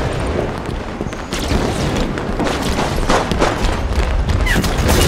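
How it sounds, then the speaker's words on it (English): A grenade blast in the shooter Halo 5, heard as a dense, loud rumbling boom sustained over a few seconds with scattered crackling gunfire mixed in. "Grenade on the way."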